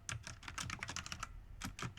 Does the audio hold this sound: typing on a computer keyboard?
yes